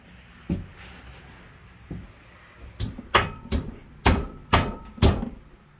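Hammer blows on a 2004 Honda Shadow motorcycle part in a workshop, several sharp metallic strikes, a couple spaced out then a quicker run of five or six loud hits, close by with no talking.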